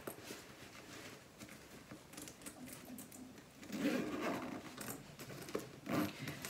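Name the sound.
closing the double pull zippers on a toiletry bag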